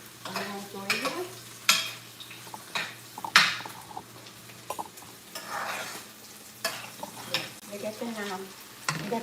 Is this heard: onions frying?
yes